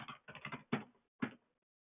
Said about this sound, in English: so I will type in project name